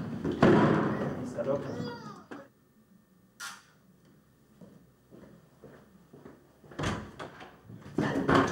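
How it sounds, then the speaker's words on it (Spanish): Someone knocks on a door: short, dull thuds between stretches of talking in Spanish, with a firmer cluster of knocks near the end. "Tocan la puerta."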